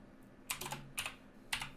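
Computer keyboard keys struck in three quick clusters of typing, faint and close, with pauses between bursts and no talking.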